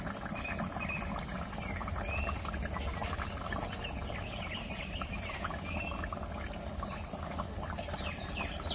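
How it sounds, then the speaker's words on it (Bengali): Gravy for a shol fish curry boils steadily in a pan, a continuous bubbling, trickling patter with no speech over it. "ঝোলটা ফুটে গেছে"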